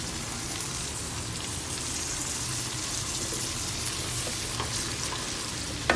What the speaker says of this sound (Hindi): इस तड़के को फिर हम जो है फिर इसमें हम डालेंगे हरी मिर्चें।